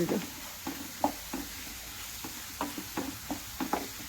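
A utensil scrapes through frying potatoes as cumin powder, coriander powder, turmeric and chili powder are mixed in, making soft repeated stirring scrapes over a low, steady sizzle, close but quiet.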